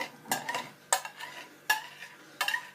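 A knife scrapes and taps against a dish while trimming the pastry lid of an apple pie, four separate sharp clinks and scrapes spaced about a second apart, close and fairly quiet.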